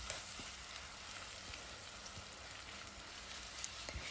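An onion mixture is stirred into Nigerian-style beans porridge with plantain in a pot on the stove, a faint, steady sizzle broken by a few soft scraping stirs, with no one talking.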